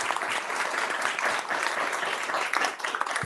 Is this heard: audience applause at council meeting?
yes